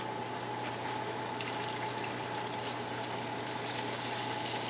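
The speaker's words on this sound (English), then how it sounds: "And then, we're gonna add some water." About a liter of water runs into a pot of braised rabbit and vegetables, a steady, continuous pouring rush with a faint hum beneath and no talk.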